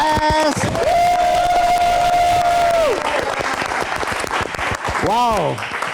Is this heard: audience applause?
yes